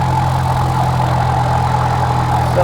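Flight-simulator aircraft engine throttled back in a video game, a steady loud drone with a low hum and a midrange tone, alone and unchanging throughout.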